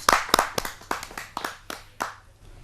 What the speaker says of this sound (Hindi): आपकी एक जोरदार ताली।